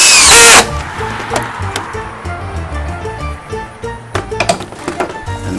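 A power driver sets a screw into cumaru hardwood decking, a brief loud whine at the start followed by softer rattling and clinking handling noises.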